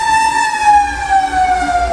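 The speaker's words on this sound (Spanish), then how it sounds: "sale un camión de bomberos para apagar el incendio y se escucha" A fire truck siren wails steadily, a strong sustained tone slowly sliding lower in pitch, with low rumbling traffic noise underneath.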